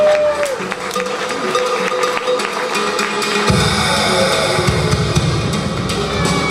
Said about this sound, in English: Let's have a round of applause, ladies and gentlemen.